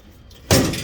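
After a faint rustle, a sudden broadband thud and clatter as a U-Haul car hauler trailer fender is pushed shut, followed by a brief rattling decay.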